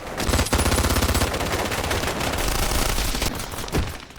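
Heavy machine gun fire in a war film battle scene: a loud, dense, continuous burst of rapid shots with a brief gap and a few heavier blasts mixed in.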